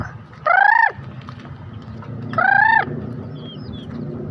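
Two loud, drawn-out fowl calls ring out a couple of seconds apart, near and clear, over a low murmur of background noise.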